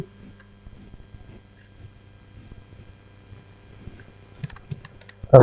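Typing on a computer keyboard during data entry into an MS Access form, quiet irregular key clicks close by at a steady pace, growing busier toward the end and ending in a louder clack.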